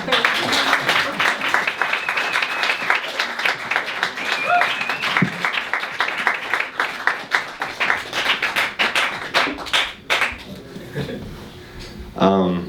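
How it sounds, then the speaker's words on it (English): Crowd applause after a music and dance performance, with dense, sharp claps building then thinning out, with some cheering and voices mixed in near the end. "Can you clap for them, please?"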